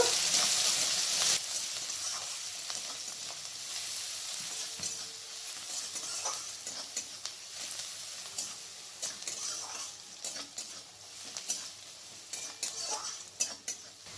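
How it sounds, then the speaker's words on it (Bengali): Onions with slit green chillies frying in oil in a pan toward golden brown, with steady broadband sizzle and frequent clinks of a utensil stirring against the pan throughout. "পেঁয়াজটাকে গোল্ডেন ব্রাউন কালার আসা পর্যন্ত ভেজে নেব"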